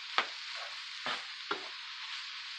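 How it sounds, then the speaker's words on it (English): A spoon stirring Jamaican patty filling in a pan, three soft scraping swishes over a steady sizzle, close and fairly quiet. "I'm just going to mix this all around."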